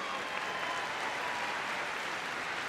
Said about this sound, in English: Big round of applause for Jake and Lisa.